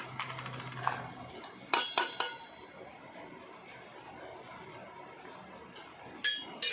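Jaggery and raw mango pieces go into a bowl for Ugadi pachadi, making a few sharp utensil clinks and light clatters against the dish, close and quiet, separated by short pauses.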